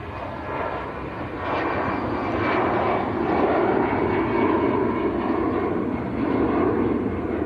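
An easyJet Airbus A320 at Manchester Airport rumbles with a continuous, fairly loud jet roar that builds slightly early on and then holds steady, heard alone without voices.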